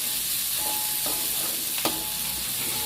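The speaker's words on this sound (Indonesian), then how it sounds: "Kita masak kucai." Garlic chives (kucai) being stir-fried in a pan, a steady broadband sizzle with a few soft scraping stirs, one sharper clack near the end, with no voices.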